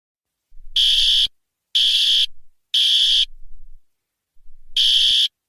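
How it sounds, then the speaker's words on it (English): A house fire alarm going off: four loud, shrill electronic beeps of about half a second each, evenly spaced and sounding alone with no talk. "it's that the sound of the fire alarm that is going off?"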